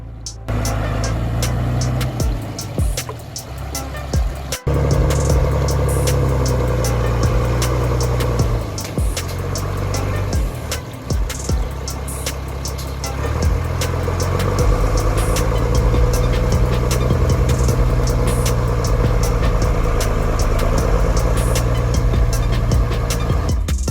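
A forwarder logging machine's engine drones steadily as it drives through forest terrain, loud and continuous, with mechanical clatter and brief dips in intensity.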